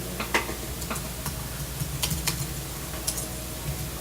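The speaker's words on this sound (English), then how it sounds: "If you guys can hear me typing, I am sorry." Scattered keyboard clicks tap out irregularly during a League of Legends game, close by but fairly soft, over a quiet background hum.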